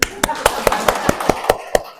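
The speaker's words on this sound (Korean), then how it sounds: "박수!" A short burst of hand clapping in a Catholic parish church talk, about nine evenly spaced sharp claps from a single nearby pair of hands over two seconds.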